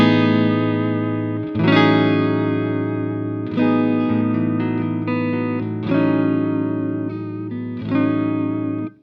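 Clean electric guitar played through a Positive Grid BIAS MINI amp with the bright switch engaged, set for a big clean tone: sustained chords and ringing notes, restruck every couple of seconds, with effects-style shimmer and reverb.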